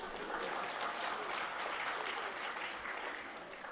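Audience applause in a hall during a motivational speech, steady dense clapping from many hands at moderate volume, slowly tapering toward the end with no voices over it.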